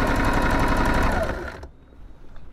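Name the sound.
sewing machine stitching fabric bunting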